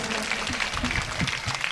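Audience at a katha religious gathering breaks into sustained, loud clapping, a dense wash of hand claps running evenly throughout.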